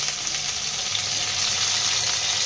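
Steady, close sizzle of potatoes frying in a pan as flat beans are tossed in, a continuous bright hiss with no talking.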